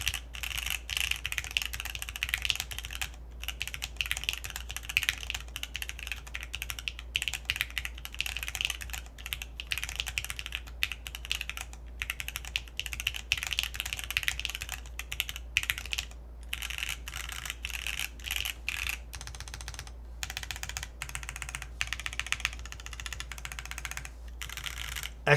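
Steady, fast typing on an IV Works AV4 mechanical keyboard with Granite switches and an FR4 plate, with dense, even clacking keystrokes over a low hum, continuing without pause.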